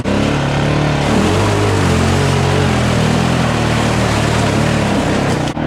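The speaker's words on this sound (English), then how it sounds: "If you drive a Honda, especially with a solid axle, the only way you can really drive it is just the floor and hope you get past the washout." A Honda Rancher 420 ATV with a solid axle roars at full throttle through a washout, its engine loud and sustained with splashing water, the drone holding steady for several seconds.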